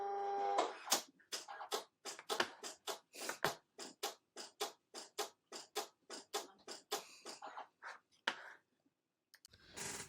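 A Silhouette Cameo 4 Pro cutting machine slices vinyl at a 10 blade depth over two passes, giving a quick, evenly spaced run of sharp ticking and whirring bursts, close and clear in a quiet room.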